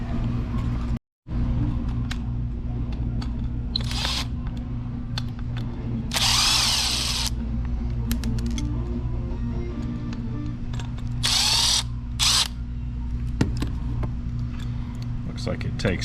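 A power drill removing two screws from the animated T-Rex jaw on a Stern Jurassic Park pinball machine, with several short loud whirring bursts over a steady machine hum and background noise, while someone talks.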